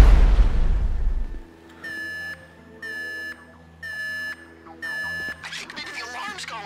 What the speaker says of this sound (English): I think maybe the alarm's going.